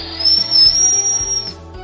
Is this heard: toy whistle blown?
yes